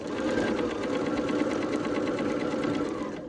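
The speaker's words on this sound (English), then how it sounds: "put the fabric under my presser foot, take 2 or 3 stitches" Steady, close whir of a sewing machine stitching quilt fabric pieces together under the presser foot, running continuously at an even pace throughout.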